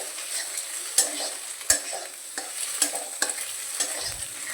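Egg frying in a pan on a gas flame while making Bengali chowmein, a steady bright sizzle with periodic sharp scrapes and knocks of a spatula stirring, close and alone with no talk.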